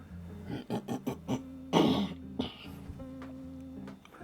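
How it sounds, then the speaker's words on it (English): A person clears their throat several times in short rough bursts, with one louder, longer rasp in the middle, close and fairly quiet indoors. "Need to clear my throat a bit today."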